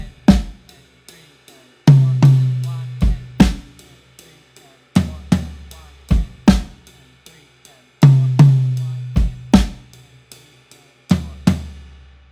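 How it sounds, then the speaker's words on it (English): Drum strokes alternate between a high tom and a floor tom in a steady counted pattern, each hit sharp and close with a booming decay, groups of quick high-tom strikes followed by deeper floor-tom pairs. "So I'm going to alternate between a high tom and a floor tom."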